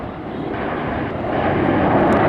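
Red Arrows display jets flying the 5-4 split manoeuvre at an air show, a steady loud roar of jet engines with wind rush that swells slightly toward the end, no talk.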